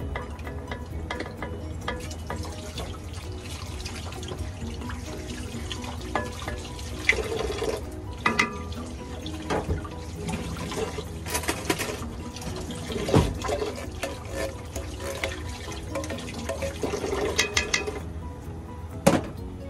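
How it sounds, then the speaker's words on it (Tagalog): Coconut milk poured into a pan for mung bean stew, a steady liquid splashing and trickling with occasional clinks and drips over nearly twenty seconds, close and moderately loud. "Buhos natin yung gata sa pan."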